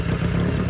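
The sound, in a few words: Kawasaki Z800 motorcycle engine revving to 4000 RPM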